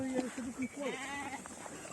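Sheep bleat repeatedly beside Lake Darvari, several wavering, nasal cries that overlap. They sound near and carry over outdoor background noise.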